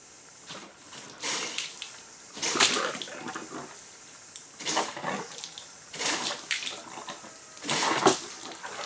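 Water rushes and gurgles through the heater hoses of an Audi B5 during a flush, coming in uneven surging bursts with hissy splashes, fairly close and with no talking.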